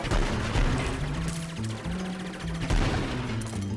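Rapid gunfire from mech-fighting video game Mechstermination Force, a dense continuous barrage of shots with booming hits running loud throughout without pause.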